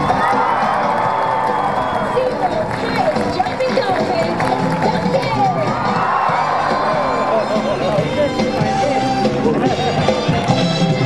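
A SeaWorld San Diego dolphin show crowd cheers and shouts steadily as a dolphin jumps in the pool, a dense roar of many voices filling the whole stretch with no pause.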